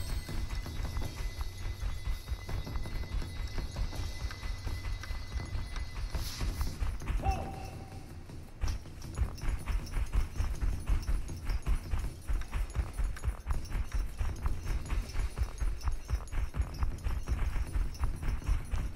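A horse in the PUBG video game gallops with quick, regular clip-clop hoofbeats that run on almost continuously, with a short lull partway through before the rhythm resumes.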